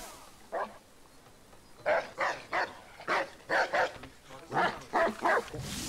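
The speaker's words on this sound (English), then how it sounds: "Shut up, dog." A dog barks in Assassin's Creed III, a series of sharp, fairly close barks, one alone and then in quick clusters of two or three, over faint background game ambience.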